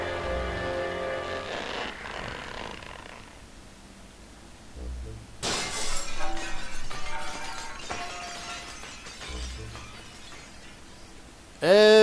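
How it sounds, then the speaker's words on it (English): An energy barrier in The Legend of Zelda: The Wind Waker breaks apart like glass, giving a bright shattering burst about midway with a sparkling tail, then another sharp crash at the very end. "attacking it solidifies this energy barrier, and it will break apart just like glass"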